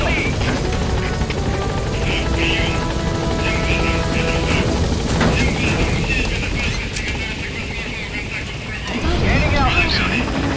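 Helicopter gaining altitude in the video game Metal Gear Solid V, a loud, steady rotor thrum and turbine whine that fills the whole stretch, with radio voices and game effects layered over it.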